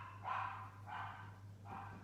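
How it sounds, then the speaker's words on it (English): Three muffled barks from dogs in another room of a house, evenly spaced over a low steady hum. "Sorry about the dogs"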